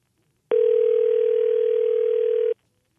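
A single loud, steady electronic telephone tone sounds alone for about two seconds, starting and stopping abruptly, with near silence before and after.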